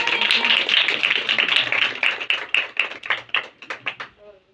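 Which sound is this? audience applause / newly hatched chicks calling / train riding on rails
audience applause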